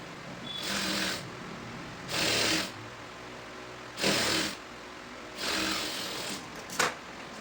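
An electric sewing machine stitches a short top in four separate bursts of steady whirring, each about a second long with pauses between, followed by a final brief run, all close and clear with no talking.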